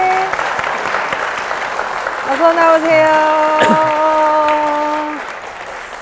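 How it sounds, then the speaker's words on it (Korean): Church congregation applauding to welcome a testimony speaker, a steady wash of clapping running throughout while a host's voice talks over it. "박수 부탁드립니다"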